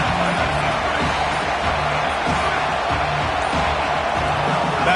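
Stadium crowd roaring at a Penn State versus Cornhuskers football game, a dense, steady wash of cheering and noise from many voices, loud and unbroken throughout, with a broadcast voice faintly beneath.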